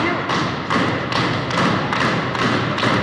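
Blows to the gut at a live independent wrestling show, heard as a steady run of heavy thuds and slaps about every half second, loud over constant crowd noise.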